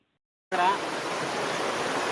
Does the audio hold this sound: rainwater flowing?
yes